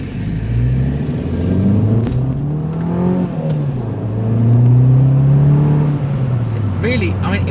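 Engine and exhaust note of a Fiat Abarth on the move, rising and falling with revs as the car drives, fairly loud and close with a throaty rumble and no talk over it.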